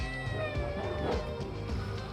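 A cat meows in a long, drawn-out wavering cry, close and moderately loud, over low background rumble while backpacking in Peru.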